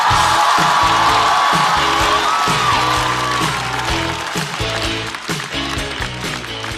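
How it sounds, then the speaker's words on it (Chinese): A live comedy show audience loudly applauds and cheers to welcome a stand-up comedian onto the stage. Heavy clapping mixes with whoops and stage music, then gradually eases. "掌声欢迎雪冰"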